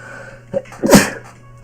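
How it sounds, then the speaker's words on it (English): A single loud, sharp sneeze up close, preceded by a brief catch of breath, with quiet background hum around it. "Ooh, I'm going to sneeze."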